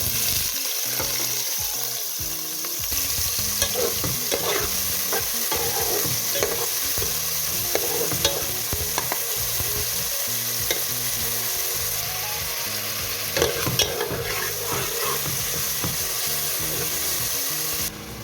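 Vegetables and fish fry in hot oil with a constant loud sizzle while a utensil stirs and scrapes the pan in irregular bursts throughout, close up and without talking.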